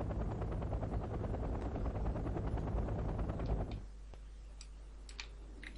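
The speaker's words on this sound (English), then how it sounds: "there are some enemy helicopters charging up" Helicopter rotor chatter with rapid ticking beats and bursts resembling gunfire in the real-time strategy game Wargame: Red Dragon, loud and steady before dropping abruptly to a quieter hum with scattered sharp clicks.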